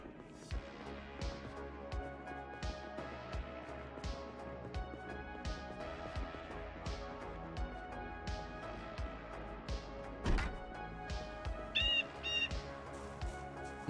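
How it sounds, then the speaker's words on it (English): Loud birds squawk and chirp in the Project Zomboid survival game, repeated sharp calls in a steady rhythm with a brighter chirping burst near the end. "Jesus, loud birds."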